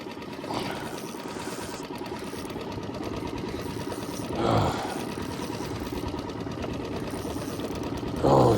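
A small fishing boat motor running at trolling speed on a lake during walleye fishing, a steady close mechanical chugging hum throughout, with a few brief louder bursts of splashing or handling noise.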